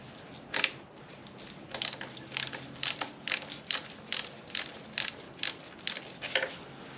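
Ratchet wrench clicking in a steady run of about a dozen sharp bursts while an Opel engine's gearbox is unbolted in a home workshop, close and loud with no talking.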